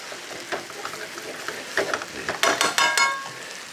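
Rice being stirred through hot fat in a pan for chicken and seafood paella, a soft scraping sizzle with louder clustered stirring strokes toward the end, close and alone.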